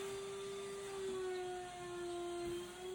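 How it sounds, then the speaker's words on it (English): A vacuum cleaner dry-vacuums dirt and dust off leather chairs during a deep clean, giving a faint, steady whine that holds nearly constant with small dips in level. "They started with a dry vacuum to remove dirt and dust off the surface."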